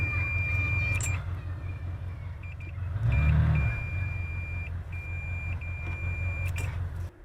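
A multimeter gives a high continuity-test beep while its leads probe a repaired electrical connection. The steady tone sounds briefly, then returns in longer intermittent stretches over a constant low rumble.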